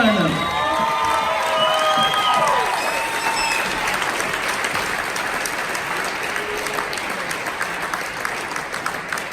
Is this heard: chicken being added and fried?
no